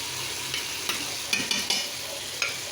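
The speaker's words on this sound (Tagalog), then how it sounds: "So, I put the tomato now. Just saute." Chopped tomato sautés in a pan for chicken biryani, with a steady close sizzle and irregular scraping stir strokes. No one talks.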